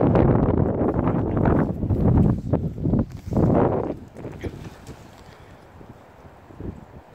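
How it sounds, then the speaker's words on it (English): Strong gusts of wind buffet the microphone at an outdoor skatepark, a loud rumbling roar in surges that eases into a lighter steady blustering toward the end. "It's so windy."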